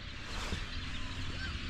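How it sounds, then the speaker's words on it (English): Waterfowl honk and call across open water at sunrise during a duck hunt, a steady chorus of moderate, somewhat distant bird calls with no talking. "Listen to the birds."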